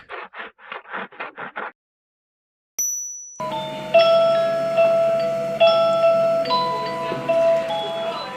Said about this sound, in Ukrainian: пролунав третій дзвоник.